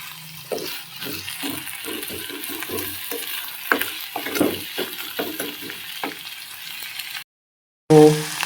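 Chopped tomato added to a hot pan for palak paneer sizzles while a spoon stirs it in quick scraping strokes, close, with a short silence before a final clatter.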